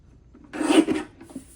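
A paper trimmer cuts through scrapbook paper in one short rasping slide, close and fairly loud, followed by a faint scrape as the paper shifts, with no speech.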